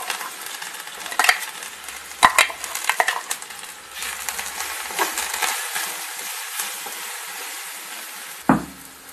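Crushed coconut fries with popping mustard seeds in a pan, a soft sizzle running throughout under sharp scrapes and clinks of a spoon stirring, with one louder clatter near the end.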